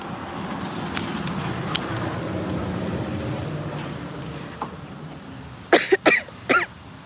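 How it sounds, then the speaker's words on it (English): Three quick harsh coughs burst out near the end, loud and close, after several seconds of steady rushing background noise. "and then I got the coughing fits"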